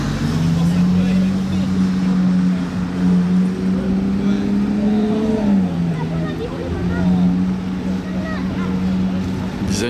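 Ferrari Daytona SP3 sports car passing along a Monaco street, a steady engine drone that holds and then dips in pitch as it goes by, with voices chatting in the background.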